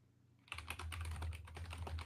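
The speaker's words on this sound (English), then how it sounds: "I can hear the keyboard go" Rapid typing on a computer keyboard during a live online show starts abruptly, close clattering keystrokes over a low steady hum, with no talk.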